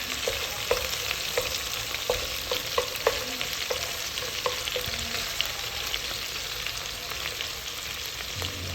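Garlic sautéing in a pan for Filipino tinolang chicken, a steady bright sizzle of frying oil throughout, with scattered light clicks and scrapes of stirring, close and continuous.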